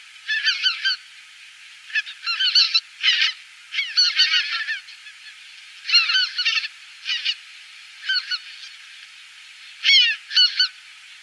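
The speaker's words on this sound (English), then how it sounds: "So there, passing over, is a flock of greater white-fronted geese" A flock of greater white-fronted geese passing overhead during migration, giving repeated high yelping honks in short clustered bursts, clear against a quiet background.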